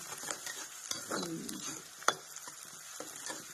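Vegetables sizzling in hot tempering oil in a home kitchen, a soft close crackle with stirring scrapes and a sharp utensil clink midway, brief and moderately quiet with no voices.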